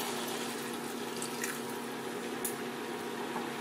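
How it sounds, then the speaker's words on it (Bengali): Water poured into a pan of simmering Bengali tel koi fish curry, a soft continuous splashing and sizzle with a few small drips, close and fairly quiet. "এবার আমি জলটা দিয়ে দেবো।"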